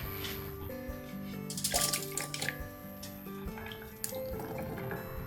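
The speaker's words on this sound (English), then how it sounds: "And then put them in our water." Finely chopped coconut pieces are dropped into water in a kitchen, giving soft splashes and trickling water, close and fairly quiet, with a steady tonal hum underneath.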